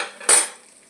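Chopped ash gourd pieces tipped into a pan of dried red chillies fried in oil, giving one short, sharp clatter that fades into a soft sizzle; no talking.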